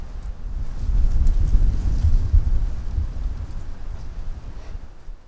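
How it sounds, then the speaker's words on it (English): Wind gusting through woods of pines, softwoods, red oaks and chestnut oaks during a tornado warning, a low rumbling rush that swells and fades steadily with no voices. "And here's the wind."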